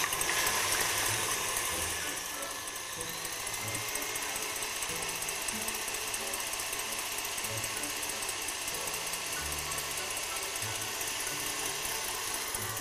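An electric mixer beats egg whites at slow speed in a home kitchen, a continuous mechanical whirring and rattling hum that holds steady throughout with no talking.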